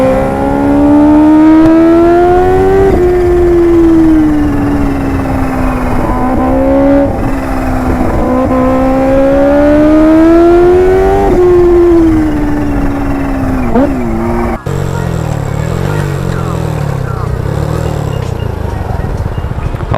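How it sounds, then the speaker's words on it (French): A Suzuki motorcycle engine revs loudly and repeatedly, rising and falling in pitch for about fifteen seconds, then drops to a rougher, lower idle-like rumble. "voilà le bruit véritable du Suzuki"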